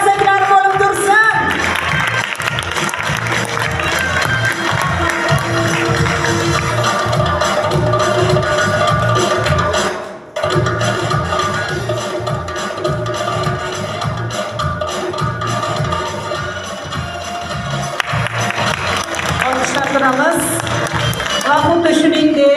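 Sustained applause from an audience at a school award ceremony, steady clapping with some cheering that dips briefly midway and then carries on at the same level.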